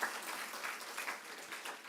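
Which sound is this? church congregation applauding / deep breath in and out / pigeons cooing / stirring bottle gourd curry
church congregation applauding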